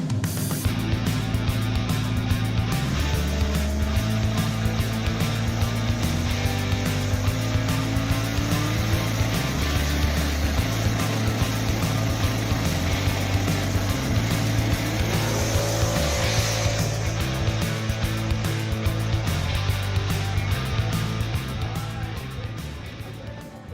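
A 2013 Ford Mustang GT with a single-turbo Coyote engine runs loud and steady throughout, its deep exhaust drone shifting pitch in gear-change steps with rising turbo whine and no talk over it.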